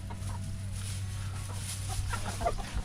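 Chickens clucking softly in short, scattered bursts over a steady low hum, fairly close and moderately quiet.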